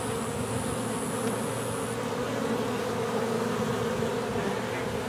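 Continuous droning hum of a crowd of honeybees, steady and close, with no voices, filling the whole stretch evenly.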